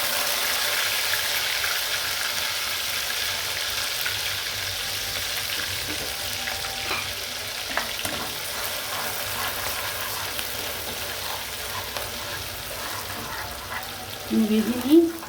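Onion and tomato frying in oil with a bay leaf, cloves and cardamom for a chicken ball curry give off a steady, close hiss and crackle, ending with a short clatter of stirring.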